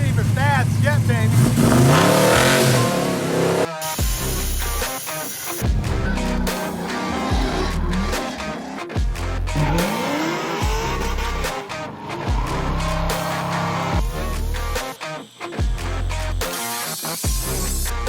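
A powerful hot rod engine revs and accelerates loudly, with tire squeals and shifting roars throughout, and a voice speaking in places over the engine noise.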